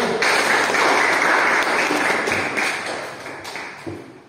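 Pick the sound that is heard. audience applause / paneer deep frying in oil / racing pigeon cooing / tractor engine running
audience applause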